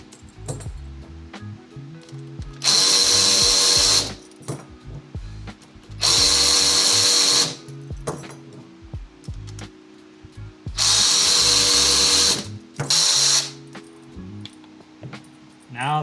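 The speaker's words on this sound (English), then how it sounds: "I like to use the power tools, it's a lot faster." A power tool whines in four loud bursts, close by, removing the fasteners on an exhaust heat shield during a Cobra exhaust install, with clanks and handling noise between bursts.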